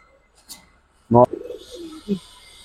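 A silver afsan khaki pair of Giribaz pigeons making a short close coo with a soft rolling tail, followed by a brief second note, in an otherwise quiet room.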